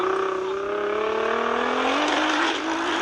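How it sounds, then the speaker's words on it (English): An old Ferrari engine revs hard and climbs steadily in pitch, loud and close, with a brief dip near the end and no voices. "We got an old Ferrari."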